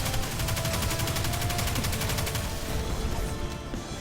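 Rapid sustained SMG fire in the Destiny 2 video game, a fast even stream of shots that rattles for about two and a half seconds before trailing off into fading echo and ambience.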